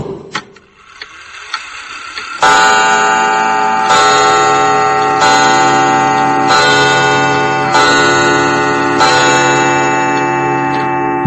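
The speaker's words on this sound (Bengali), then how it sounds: "ঢং ঢং ঢং করে 12টা বাজলো" A large chiming clock on an outside veranda strikes twelve at midnight, heavy sustained bell tones ringing out one after another at a steady slow pace, each stroke loud and resonant, overlapping the previous one's decay.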